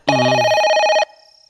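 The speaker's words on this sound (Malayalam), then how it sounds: "They phone." A telephone rings once with a single loud electronic ring burst of about one second that cuts off abruptly, close and clear, followed by quiet.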